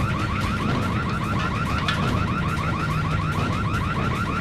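A repeating electronic alarm in a video game blares steadily and loudly over a dense, busy game soundscape, its rising tones cycling several times a second without any talk.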